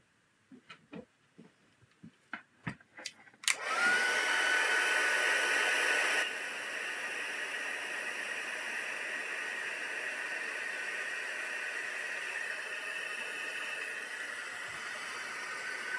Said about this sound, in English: So I'm just melting that powder now with the heat tool.